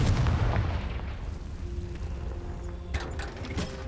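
Confringo blasting spell explosions in the video game Hogwarts Legacy: a deep booming blast rumbles up front, followed by a second sharp burst with crackling debris near the end, with no talking.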